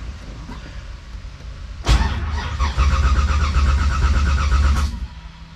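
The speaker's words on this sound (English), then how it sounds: "We'll do a quick crank and see if there's any oil pressure." The engine of an LS-swapped Nissan 350Z cranks for an oil pressure check, a loud, steady whirring churn that runs close for about three seconds after a quiet lead-in, then cuts off.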